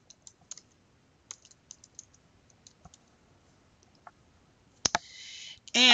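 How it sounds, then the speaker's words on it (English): Light, scattered keystrokes tap on a computer keyboard in a quiet room, a few soft clicks at a time, followed by a louder burst of noise near the end. "in this box where it says text submission, I would type your name and that this is Project One."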